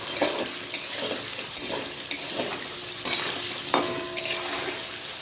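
Vegetables with potatoes fried hard over a strong flame, sizzling continuously while a spatula stirs and clatters against the pan in repeated sharp strokes, heard up close with no voices.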